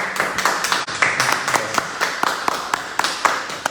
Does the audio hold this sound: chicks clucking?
no